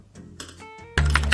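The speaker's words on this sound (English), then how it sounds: "someone typing on a computer keyboard" A brief burst of computer keyboard typing: a few sharp, separate key clicks close by, ending in a louder cluster of taps.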